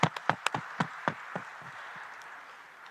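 A handful of sharp, scattered hand claps from a small audience at an African infrastructure forum and shareholders meeting, fairly faint and quickly thinning out into quiet room tone.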